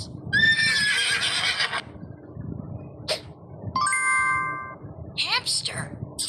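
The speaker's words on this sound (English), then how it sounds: "Horse." A horse whinnies loudly with a descending harmonic neigh, followed by a few short snorts and a second brighter whinny, over a low background rumble with some chime-like tones mixed in.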